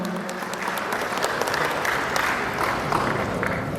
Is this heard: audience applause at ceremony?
yes